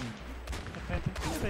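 Gunfire in the video game Overwatch, a few sharp shots cutting through busy game audio with a voice murmuring underneath.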